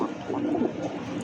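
A Kala Bombai pigeon coos in soft, low, rolling notes, close and fairly quiet, with no other sounds.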